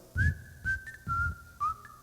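A person whistles a single sustained, wavering tone in four short phrases, close and clear, with soft breathy thumps under each phrase and no talking.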